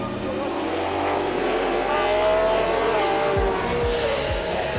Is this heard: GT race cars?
yes